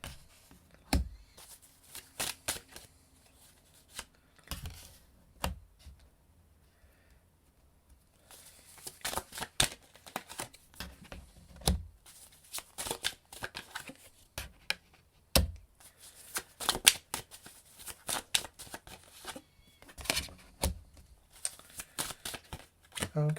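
Tarot cards are shuffled in repeated bursts of soft riffling and patting, close and quiet, with brief pauses between handfuls.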